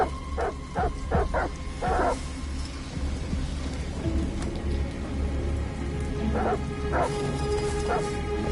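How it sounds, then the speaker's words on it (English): Several dogs bark in repeated bursts, with yips and whimpers, moderately distant over a low steady rumble like a storm; the barking comes in clusters near the start and again toward the end. "Goddamn dogs. What the fuck are they barking at?"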